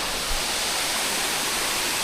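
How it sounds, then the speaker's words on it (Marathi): Ghatkara waterfall at Shahapur, a large two-tiered fall, roars as a loud, continuous broadband rush of falling water that stays unchanging throughout. "बघा धबधबा"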